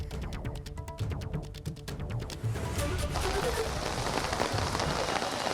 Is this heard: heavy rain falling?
yes